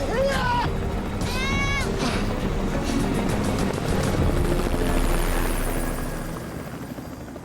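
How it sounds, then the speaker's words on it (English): A search helicopter passes almost directly overhead above open desert, a loud steady rotor throb that swells and then slowly fades, with a voice calling out over it early on. "A search helicopter flies by almost directly overhead."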